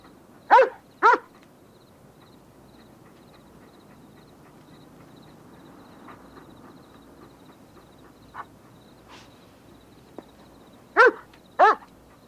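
A dog gives sharp, close barks in pairs at the start and end, with a few softer whimpers and yelps between, in a quiet room with no talking.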